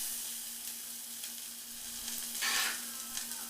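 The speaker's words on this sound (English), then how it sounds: "I am going to stir them around in the garlic" Vegetables sizzle in a pan with garlic, a soft, even frying hiss under a faint steady hum, rising to a brief louder burst of stirring near the end.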